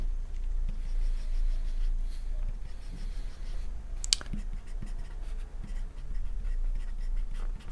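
Drawing equipotential lines on a board during a physics lecture on electric potential: continuous soft scratching strokes of a pen or marker, close up, with a brief sharper tap midway over a steady low background hum.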